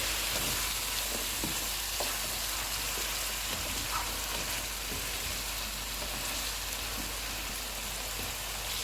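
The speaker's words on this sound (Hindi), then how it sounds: "आलू, इनको 3 से 4 मिनट तक भूनेंगे" Diced carrots and potatoes fry in a pan for spicy vegetable pulao, giving a soft, even, continuous sizzle like light rain, with faint occasional stirring taps and no talking.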